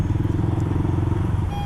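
A two-stroke Yamaha RX King motorcycle engine revs hard and steadily at close range, a dense throbbing drone that runs unbroken through the whole short stretch.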